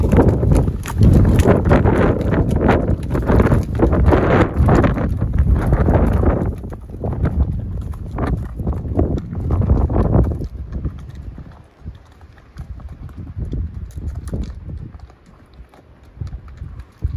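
Horses ridden at a walk along a rural canyon route in the Huasteca region, hooves clip-clopping steadily and close for several seconds, then fading as they move away, with wind buffeting the microphone.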